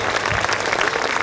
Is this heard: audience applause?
yes